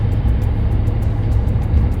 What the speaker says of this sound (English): And there it goes. The self-driving car.